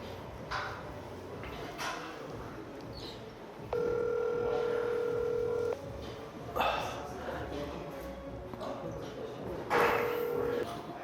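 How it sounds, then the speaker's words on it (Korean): A telephone call goes out with a few short dial beeps, then a long ringback tone of about two seconds, followed by more brief tones, all under loud nearby talk. "석스 전화해 볼게요."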